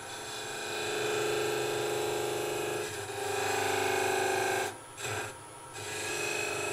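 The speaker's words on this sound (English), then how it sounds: "I'm just going in with a tip, like a V cut, and lifting as I go." A V-cut tool tip scraping and lifting wood while carving a wooden goblet, a steady rasping sound with a constant machine hum underneath, briefly pausing twice near the end.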